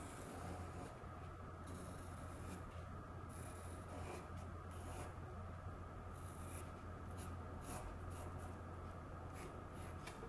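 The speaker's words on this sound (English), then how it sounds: "So let's draw the leg going this way." A drawing tool scratches faintly across paper as an animal's leg is sketched in an art lesson: quiet, continuous rubbing strokes beneath a steady background hum and hiss.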